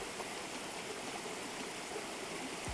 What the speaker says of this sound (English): The sound of the river.